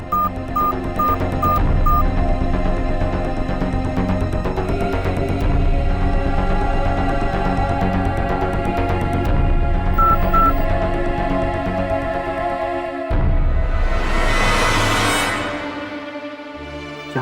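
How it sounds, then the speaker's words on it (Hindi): A telephone is dialed, with a short run of evenly spaced keypad beeps at the start and another pair of tones later, over loud continuous background music that cuts off sharply before a final swell. "उन्हें फोन करता हूँ।"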